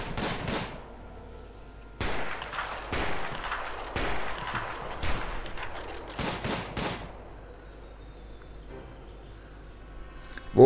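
Gunfire in the prison-management game Prison Architect, a series of sharp, loud shots fired in quick irregular bursts with brief pauses between them, then a quieter stretch before one last shot.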